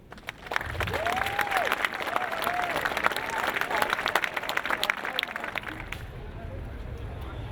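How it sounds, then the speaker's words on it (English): Students give a round of applause at the 2013 opening of Longmeadow's new high school. Brisk clapping starts abruptly, holds for several seconds with faint vocal sounds over it, then stops, leaving quiet room noise. "give a round of applause in appreciation of the citizens of Longmeadow"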